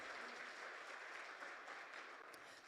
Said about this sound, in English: Another round of applause for the head of Youth